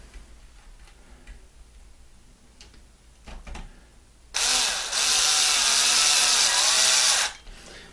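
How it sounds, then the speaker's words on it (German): Faint ticking and handling noises lead into a loud, steady whir of a cordless screwdriver driving a screw into an RC car, running for about three seconds up close before stopping. "wenn ich mit dem Akkuschrauber irgendwas mache, macht das mit Gefühl"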